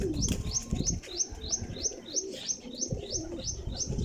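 Young pigeons in a loft coo and chirp in a steady repeating series of about a dozen calls, close and fairly loud over a busy low rustling background.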